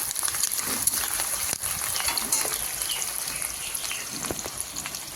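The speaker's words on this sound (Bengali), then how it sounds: "দিয়ে পেঁয়াজগুলো একটু ভেজে নেব" Chopped onions fry in hot oil in a pan for a soybean curry, with a dense, even hiss and fine crackling close by.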